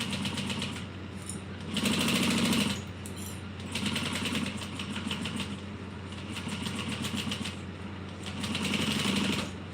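Sewing machine stitching a pocket seam on a fabric bag, running in several bursts of rapid, steady needle chatter with short pauses between, close and clear with no talk.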